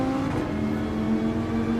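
Race car engine revving hard as it accelerates out of a corner on a track in a racing video game, a steady loud whirring engine note with a high tonal whine, alone without talk.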